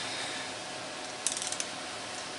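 A torque wrench tightening cylinder head bolts on a 351W engine to 110 foot-pounds, giving a short cluster of sharp mechanical clicks midway through over a steady hiss of background noise.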